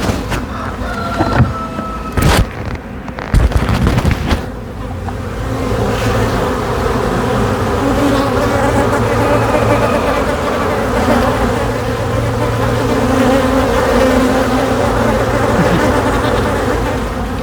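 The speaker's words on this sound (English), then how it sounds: "so you can hear them buzzing right now" A steady, dense hum of many honey bees buzzing close by at a Flow Hive, a continuous droning swarm after a few brief knocks and handling bumps at the start.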